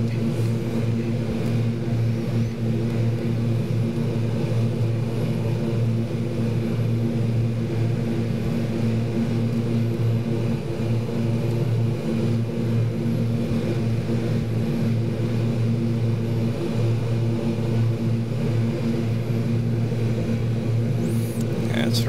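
Twin turboprop engines of a Super King Air B200 in a flight simulator game drone steadily and loudly throughout, a constant low hum with harmonic tones and no speech.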